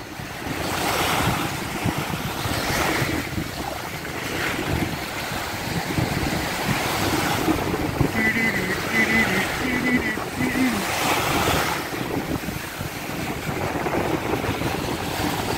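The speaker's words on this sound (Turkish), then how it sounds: "Şu dalgaların sesine hastayım zaten" Sea waves on İztuzu beach at Dalyan, Turkey, a continuous roaring surf with swelling breakers and wind buffeting the microphone, faint voices and a brief tonal sound in the background.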